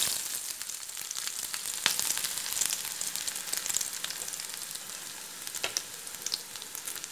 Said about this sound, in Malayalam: അരിഞ്ഞു വെച്ച ചെറിയ ഉള്ളി ഇട്ട് കൊടുക്കാം.